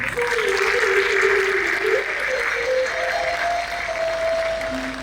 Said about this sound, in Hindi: इनकी खुमारी के लिए एक बार ताली बजाएं।